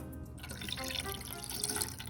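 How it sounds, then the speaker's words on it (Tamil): Continuous trickling pour of thin coconut milk into a pot, soft and close, with a faint splashy texture throughout. "இப்போது 2ஆவதாக இருக்கிற தேங்காய் பாலை இதில் விட்டு நல்லா கொதிக்க விடுங்க."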